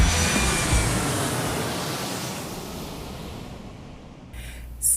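An airplane taking off, a broad roaring rush that swells loudly then slowly fades into the distance before a brief new sound at the end.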